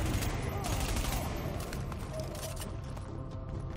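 Dense, continuous gunfire in the video game The Division, sustained bursts and overlapping shots filling the scene loudly for the whole stretch, with game ambience underneath.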